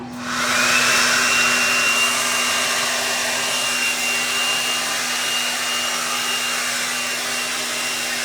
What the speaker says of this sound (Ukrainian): ваша улюблена насадка це браш, який обертається